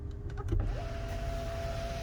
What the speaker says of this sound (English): here comes the sunshade to close up